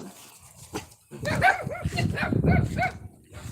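A dog barks several times in quick succession, fairly close and loud, during a live stream, with faint voices around it.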